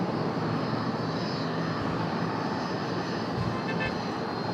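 An airliner takes off from runway 1 right at a Dallas airport, its engines a loud, continuous roar that holds steady throughout without speech over it.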